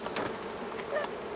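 Honey bees hum around overwintered hives in a dense, continuous drone, close and even in loudness, with no voices.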